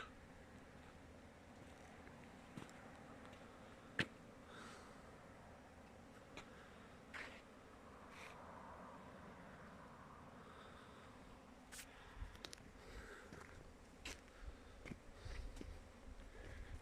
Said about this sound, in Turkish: bizim buralarda arı böyle uçuyor